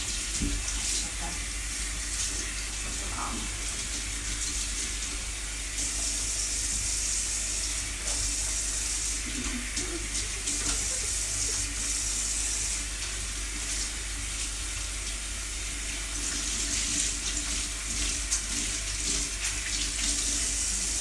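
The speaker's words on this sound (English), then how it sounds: "I'm going to wash the fry pan in the sink anyway" Tap water streams steadily into a kitchen sink while a fry pan is washed, a continuous close hiss with faint clinks and scrubbing, and a voice talking now and then.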